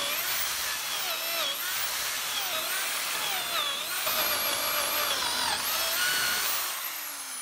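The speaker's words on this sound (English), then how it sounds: "Now that we have the majority of the waste hogged out with the drill" A power drill bores out waste wood from a timber frame floor sill joint, a continuous high whining grind with slight pitch wobbles as the bit bites into the timber, close and loud with no talking.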